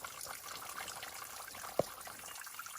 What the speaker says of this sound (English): found this super cool waterfall. It's really small, but it's unbelievably cool.